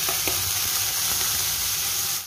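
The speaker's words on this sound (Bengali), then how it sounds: "সবজিগুলো কিন্তু ভাজা ভাজা হয়ে গেছে।" Vegetables frying in a little white oil in a wok make a loud, continuous hissing sizzle that runs unbroken for the whole moment, then cuts off.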